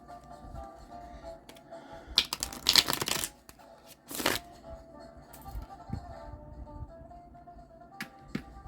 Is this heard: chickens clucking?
no